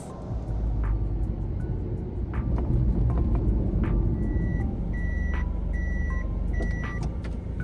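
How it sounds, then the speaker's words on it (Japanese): A car drives through town on Miyako Island with a continuous low road and engine rumble, while short high beeps repeat in the background and a few faint clicks come and go. "ちょっとね街の中車走らせていこうと思います"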